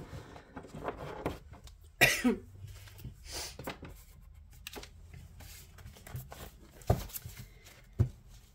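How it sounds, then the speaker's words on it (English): Several short, sharp coughs break a quiet room, with soft rustling and shuffling between them. "I apologize for the coughing"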